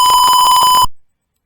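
A sensor alarm sounds a loud, steady electronic beep tone when an object is detected within 40 cm. It rings close and alone for under a second before cutting off abruptly.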